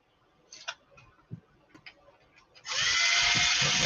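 A few light ticks and taps, then a power drill starts up, whirring loudly and steadily close by, drilling holes in a Bruder toy crane truck.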